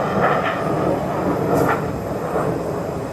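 Airplane engines roar as a broad, steady drone at an airport in Nakhon Phanom, Thailand, loud and continuous with slight swells.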